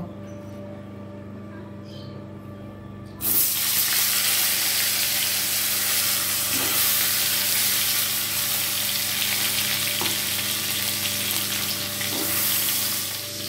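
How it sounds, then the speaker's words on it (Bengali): Cauliflower pieces drop into hot oil in a kadai, left over from frying rohu fish. After a quiet hum, a loud, dense sizzle bursts in and holds steady, close up, with no speech. "ওই তেলেতেই আমি ফুলকপিগুলো একটু ভেজে নেব।"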